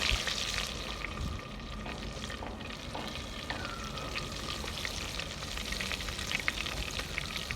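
Eggplant pieces frying in hot oil in a pan for Surat-style green undiyu, a steady loud sizzle with occasional spoon stirring and clinks, close up with no talking.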